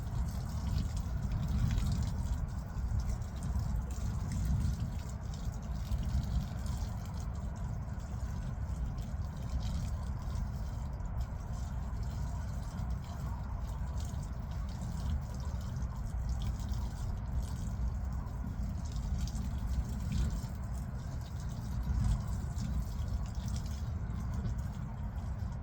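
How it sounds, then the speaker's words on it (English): Water trickles slowly and steadily onto freshly planted raspberry canes, a soft continuous wash with a low rumble beneath, unbroken and even throughout. "get a nice slow steady trickle."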